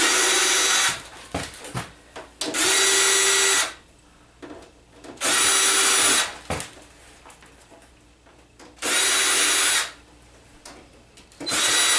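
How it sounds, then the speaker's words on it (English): Power drill backing screws out of the rear panel of a 70-inch Vizio TV, four loud sustained whirring bursts about a second long each, separated by clicks and rattles of handling. "Thank God for drills and drill bits, because this would have taken forever to do by hand."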